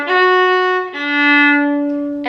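Solo viola plays a short phrase from a K-pop song: two sustained, bowed notes with rich harmonics, the second starting just under a second in, close and clear with no talking.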